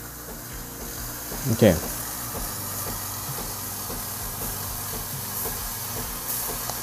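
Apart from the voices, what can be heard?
Breville Barista Express steam wand with three-hole tip releasing steam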